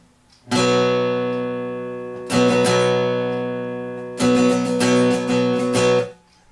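A B barre chord on guitar, strummed three times with each ringing out and slowly decaying, the last strum broken into several quick repeated strokes; close and clear with no talking.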